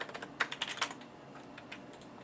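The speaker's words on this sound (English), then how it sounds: "So we want to go here, type in terminal." Quick bursts of keystrokes on a computer keyboard while entering a command in a terminal on an Ubuntu setup, close and fairly quiet, with a cluster of clicks and then sparser taps.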